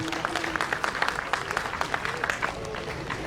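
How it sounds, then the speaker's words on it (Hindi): An audience at a Teachers Day ceremony in Kotdwar, Uttarakhand claps as a certificate is presented, a brisk, steady burst of many hands close to the microphone, dense and even throughout. "प्रथमतः ये प्रशस्ति पत्र डॉक्टर मधवाल जी को आपकी जोरदार तालियों के बीच"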